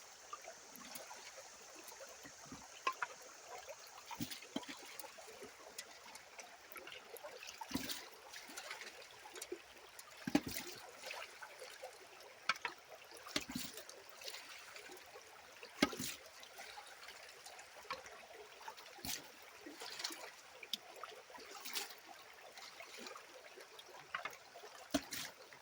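Water trickling through a gold sluice box while working a clay deposit on an inside river bend, a faint, steady wash broken by occasional soft splashes and clicks.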